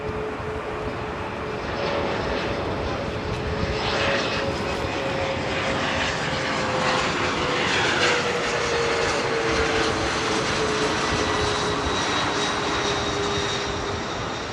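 A jet airliner at LAX airport roars past with its engines, a loud, sustained broadband rumble and whine that swells and shifts in pitch as it moves, heard continuously without talk.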